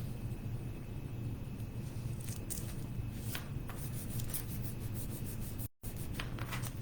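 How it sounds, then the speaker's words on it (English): Steady scratchy rubbing over a craft transfer being applied for a DIY cross, with soft bursts of friction and a quick peeling sound, close and continuous with no talking. "you just rub it on and then you peel it off"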